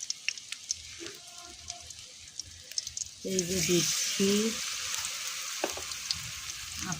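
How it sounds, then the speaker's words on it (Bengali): Cauliflower pakoras in gram-flour batter with ginger and garlic frying in oil, a steady hiss and sizzle swelling up about midway and continuing under a woman's speech. "এই যে আমার পাকোড়া ভাজা হয়ে গেছে"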